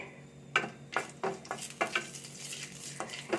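Three cardamom pods, three cloves and two small cinnamon sticks sizzling in hot coconut oil in a pan, with a steady close hiss broken by regular sharp clinks and scrapes of a stirring spoon; no one talks.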